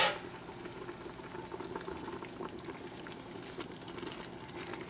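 A pot of greens boiling on the stove as they cook down, a steady close bubbling and simmering hiss with soft pops, continuous and even throughout without talk.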